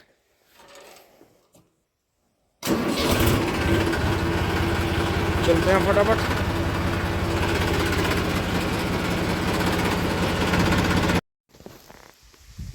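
A tractor engine on a sloped field track starts up after brief talk and runs loud and close for several seconds with a steady chugging drone as it pulls off, then cuts abruptly.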